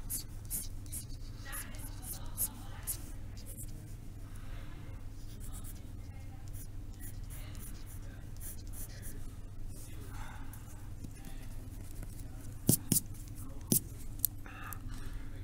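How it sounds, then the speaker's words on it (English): A pencil sketches loosely across a small sketch card, giving soft, continuous scratchy strokes at close range with faint background hum and a few brief clicks toward the end. "I just use this one to kind of quickly gesture in, sketch in loosely"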